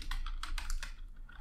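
Rapid keystrokes on a computer keyboard come in quick bursts of clicks with brief pauses, close and clear, while someone enters JavaScript code for IPFS file uploads. Nobody speaks.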